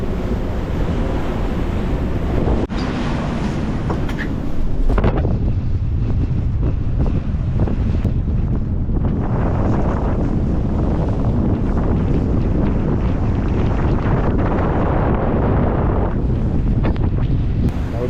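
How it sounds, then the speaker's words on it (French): Strong wind gusting above 40 knots roars and buffets loudly and continuously on a solo sailboat in the Atlantic, mixed with the wash of waves and sea spray; no voices. "il y a des rafales au-dessus de 40 nœuds par moment"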